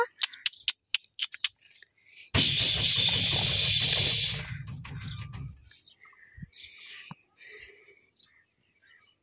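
Pet birds chirp in short, sharp bursts close by, broken by a loud rush of broadband noise for a few seconds, then scattered faint tweets and clicks.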